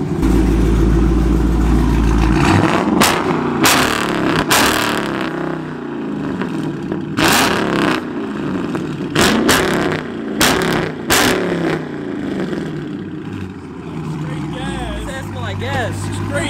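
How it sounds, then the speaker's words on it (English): Catless SRT 300 car engine revved hard several times in a row, loud and close, with sharp bursts rising and falling between idle, while people talk over it. "Come on, rev it."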